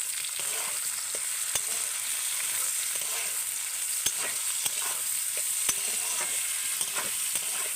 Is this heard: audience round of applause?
no